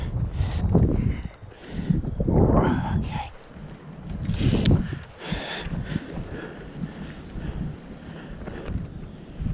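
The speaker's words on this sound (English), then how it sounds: "A gust of wind come from nowhere" Strong gusts of wind buffet the microphone at an outdoor trout fishing spot, swelling into loud rumbling bursts with brief lulls between them, while someone speaks a few words over it.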